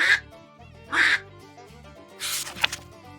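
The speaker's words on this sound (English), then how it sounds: "Ducks say, "Quack."" A duck quacks three times, loud, near and nasal, spaced apart over a soft background tune.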